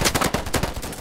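Rapid bursts of gunfire from a free FPS shooter, heard as a dense run of loud automatic shots with several distinct volleys in quick succession, no talking over them.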